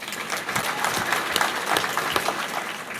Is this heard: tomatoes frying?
no